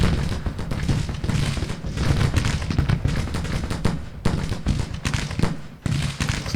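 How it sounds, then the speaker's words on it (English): Cannon and artillery fire from a Grand Tactician: Civil War battle booms again and again alongside crackling musketry, with dense, overlapping reports and several sharper, louder blasts spread throughout. "These guys are taking artillery fire from the flank."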